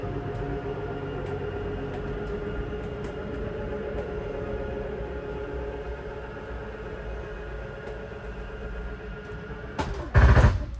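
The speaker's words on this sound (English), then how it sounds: "Once they hear that little gear grinding noise, they start to freak out, but that just means you're fully extended or fully in." A 2023 Jayco Jay Flight 294QBS travel trailer slide-out motor runs as a steady mechanical drone, then a loud, brief grinding burst of the gear hitting full extension near the end.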